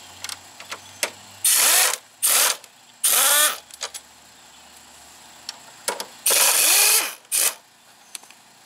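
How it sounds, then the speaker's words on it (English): Power-tool bursts on a 12 mm socket remove brake caliper bolts from the front wheel of a 2005 Yamaha Majesty YP400 scooter: four loud whirring runs of about a second each, separated by quiet gaps with small clicks and clanks. "Right here takes 12 millimeter socket to get these two bolts right here off."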